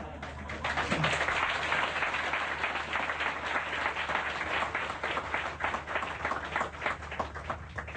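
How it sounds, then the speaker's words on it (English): Sustained applause from an audience at a spiritual talk, dense steady clapping that holds at an even, fairly loud level throughout with no voices on top. "you clap so loud"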